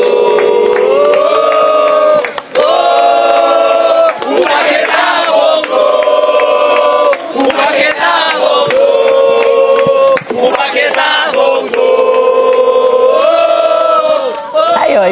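Flamengo football fans chanting and singing in unison for Paquetá, a loud close crowd voicing a repeating melodic chant continuously with shouts rising over it.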